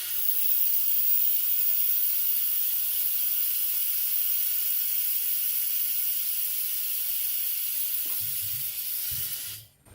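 Pressurized gas hisses steadily out of a loosened FermZilla fermenter lid, a loud, even, broadband hiss that runs for about nine seconds and then cuts off, with a brief voice near the end.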